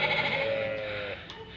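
Sheep bleat loudly and close by on a farm, a sustained wavering call filling most of the moment before trailing off, with faint ambient noise behind.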